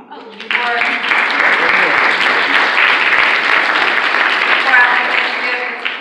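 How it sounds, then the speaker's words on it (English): An audience at a town hall listening party gives loud, sustained applause, dense clapping that swells and holds for several seconds with a few voices mixed in. "give them a round of applause"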